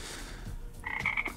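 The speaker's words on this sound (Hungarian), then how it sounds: "Imádom a béka hangot." Frog croaking in a short series of rapid, raspy pulses near the end, fairly close, over a background of low rumbling noise.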